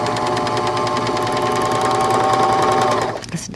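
A Bernina L450 serger runs steadily on a 3-thread setup, a loud, continuous fast whirring hum with no talking over it, stopping abruptly near the end.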